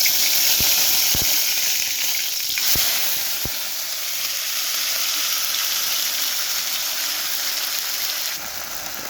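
Ground spice paste hits hot oil already crackling with cumin for a potato dum curry, giving a steady loud sizzle with a few sharp pops and spatters near the start, then settling into an even hiss.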